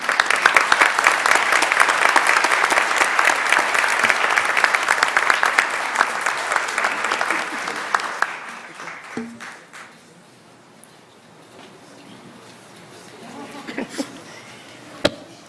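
An audience at a school board of education meeting claps in a loud, steady burst for about eight seconds before it tapers off into quiet room noise with a few stray sounds.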